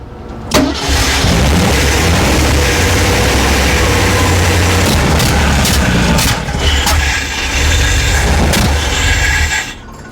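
A rebuilt 1939 Ford engine cranks, catches and runs loud and close, with a sharp start near the beginning and a steady rough idle that dips briefly before continuing to the end.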